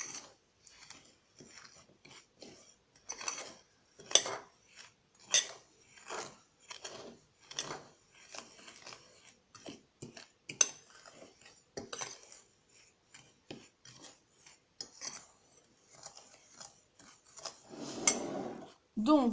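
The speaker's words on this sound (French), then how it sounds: "on va mélanger avec une fourchette. Comme ceci, on mélange." A fork clinks and scrapes irregularly against a bowl while ingredients for homemade toilet-cleaning tablets are mixed, soft close taps and scrapes spread across the clip, with someone speaking over them.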